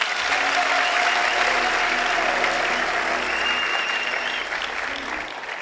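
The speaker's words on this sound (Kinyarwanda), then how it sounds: "mumfashe tumukomere amashyi." An audience at a gathering claps steadily and loudly throughout, a dense, continuous wash of applause with a faint murmur of voices underneath.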